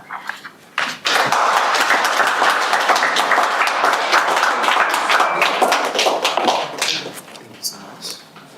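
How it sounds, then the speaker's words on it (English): A room of listeners at an agricultural exhibition breakfast breaks into loud, close applause after a speech, dense clapping that swells quickly and tapers off near the end, with some voices mixed in. "A round of applause for him again."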